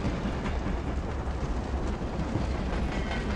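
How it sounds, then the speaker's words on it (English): A train ride to Berlin in the video game Wolfenstein: The New Order: a loud, steady, broadband rumble of rolling rail cars, continuous and enveloping with no talk. "Anya, you and me on a train to Berlin"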